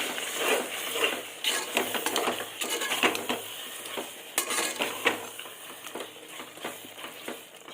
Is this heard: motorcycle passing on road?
no